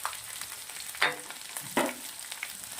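Chopped onion, red and green chilies, ginger and garlic fry in ghee and oil with a steady close sizzle, broken by two brief stirring scrapes of the spoon in the pan.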